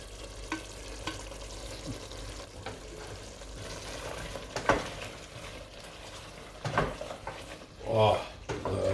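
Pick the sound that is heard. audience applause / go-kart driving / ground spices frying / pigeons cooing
ground spices frying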